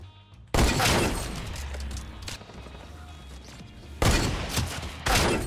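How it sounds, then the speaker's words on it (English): Bursts of loud gunfire in the Fortnite Battle Royale video game, three sharp volleys with quieter game sounds between them. "People shooting from south"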